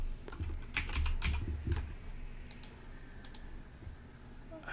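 Rapid bursts of keystrokes on a computer keyboard come in uneven clusters with short pauses between them, close and moderately loud against a quiet room.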